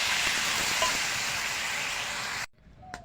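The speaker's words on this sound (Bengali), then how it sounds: "ডালটা এবার ভেজে নেব" Lentils for dal fry in a pan with a steady, even hiss that cuts off abruptly near the end, leaving near silence.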